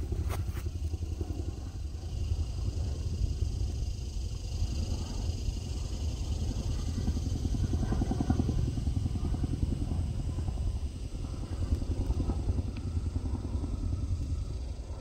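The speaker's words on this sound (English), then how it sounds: "So I hear some helicopter in the distance." A tandem-rotor helicopter drones with a steady low rotor thump somewhere in the distance, continuous and moderately loud throughout.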